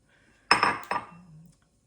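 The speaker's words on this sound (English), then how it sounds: "we're gonna start off by putting all of our dry ingredients into our mixing bowl" Dry ingredients for Hokkaido milk bread tipped into a mixing bowl, two close clinks of a container against the bowl followed by a short rattling clatter and a faint low scrape.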